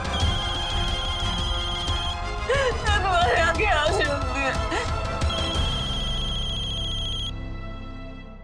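A mobile phone rings with a repeating electronic ringtone, steady and fairly clear, while someone speaks over part of it with emotional talk; the ringing continues before fading and stopping.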